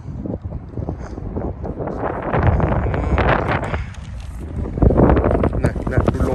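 Strong, cold wind at Hampton Beach roars and buffets the microphone in continuous loud gusts that rise and fall, with a voice heard at times under the rumble.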